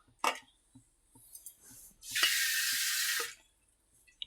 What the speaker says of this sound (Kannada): ಇನ್ನೊಂದು ಸ್ವಲ್ಪ ನೀರು ಹಾಕೋಣ.